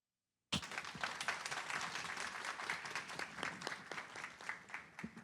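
A crowd applauds steadily, dense clapping starting abruptly after a brief silence and continuing at an even, fairly loud level throughout.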